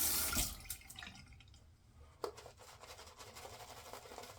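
Water is added to a Caisson Shaving Co. soap puck, with faint drips and a brief splash or tap against a quiet background, close and soft.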